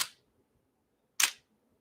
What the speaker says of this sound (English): I just hold down the shutter